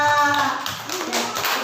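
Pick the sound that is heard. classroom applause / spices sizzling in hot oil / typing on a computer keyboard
classroom applause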